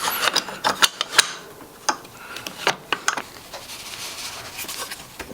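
E-bike mid-drive conversion motor's locking ring being tightened, a run of close, sharp metallic clicks and ratcheting taps in an irregular rhythm, with softer scraping between them.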